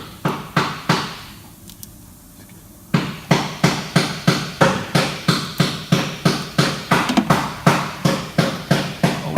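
An Isuzu NPR diesel engine idles after a fuel filter change, a steady loud knocking clatter of rapid regular beats, briefly dropping away to a quieter hiss before the rhythmic chug resumes and continues.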